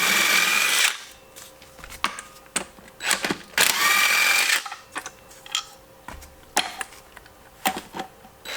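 An impact wrench rattles off 17mm motor mount bolts during engine prep, delivering several short, loud bursts with pauses and clinks of handling between them.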